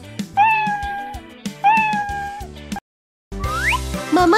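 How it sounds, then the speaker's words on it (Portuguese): A cat meows loudly twice in long drawn-out calls, then after a brief silence gives another rising, wavering meow, close by and clear. "e o gato mia."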